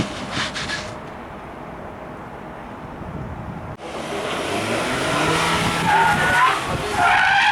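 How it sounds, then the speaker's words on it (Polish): A Mercedes-Benz brakes hard at a driving safety event, its tires skidding loudly. A quieter hiss with engine noise comes first, then a long, rising screech of rubber lasts several seconds. "odgłosy hamulców w Mercedesach. Zawsze nam towarzyszące."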